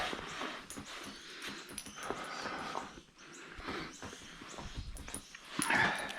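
Whippets being dried off indoors after a walk in bad weather: close, shuffling movement and rubbing with occasional soft dog whimpers and snuffles, busier and louder near the end.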